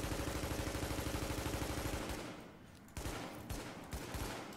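Tactical ACR rifle fired in The Division, a rapid burst of evenly spaced shots for about two seconds, followed by a pause and a few scattered single shots, with no talking.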